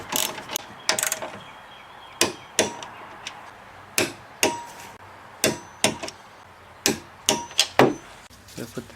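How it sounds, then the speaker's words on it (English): A ratchet clicks in short bursts while new front strut nuts on a 2000 Chrysler 300M are torqued down to 28 foot-pounds, a dozen or so sharp, close metallic clicking strokes spread irregularly through the stretch with quiet gaps between. "we're going to torque these down to 28 foot-pounds"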